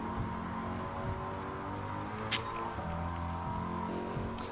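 A Shelby GT350R with a swapped-in Windsor V8 in Gran Turismo 7 holds a steady engine drone with a traditional American rumble, continuous and fairly quiet, with no talking over it.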